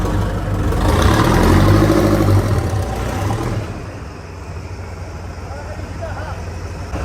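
A tractor engine runs with a steady low rumble that is loudest early on, then eases to a quieter idle; the machine's battery is run down after long standing.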